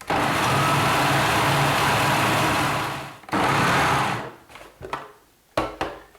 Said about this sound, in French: Alors, je vais redonner un coup d'hélice.